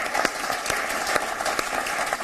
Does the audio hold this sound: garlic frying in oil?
no